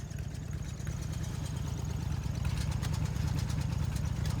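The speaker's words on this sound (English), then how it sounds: "Leave the bike running" Harley Davidson motorcycle idling at a gas station, a steady low rumbling engine with continuous even pulsing, close and moderately loud throughout, with faint background noise.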